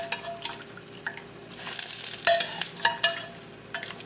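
Pork sizzles and spatters in a pot while cooking arroz con gandules, uneven bursts of frying crackle and liquid stirring, rising louder midway then settling, close and without talk.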